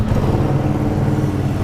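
A motorcycle fitted with an Akrapovic slip-on exhaust idles after a cold start, a steady, loud, close low rumble with an even throb and no pauses.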